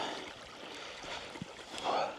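A river flows past a stepping-stones crossing on a sunny hike along the Herriot Way. The water makes a steady, soft rushing wash throughout, fairly faint and with no talking.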